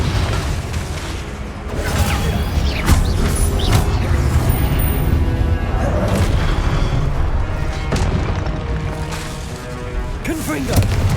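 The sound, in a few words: Confringo fire explosion spell in Hogwarts Legacy video game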